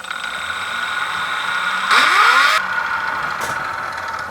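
R1 V21 RC electric motor fitted with an optional rotor, 13.5 turn, running on an RPM test: a steady high-pitched whine that surges and sweeps upward briefly in the middle, then settles, with no speech.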